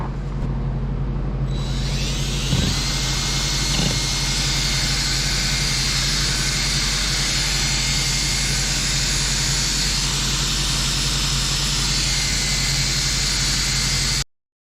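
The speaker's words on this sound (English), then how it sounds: "I gotta grab the drill and we'll get this mixed." A steady, loud mechanical whine runs continuously from start to finish, a power drill spinning a mixing paddle through thick paint without pause.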